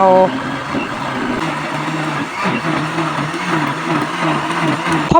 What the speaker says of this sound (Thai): เขาก็ใส่โถปั่นเอา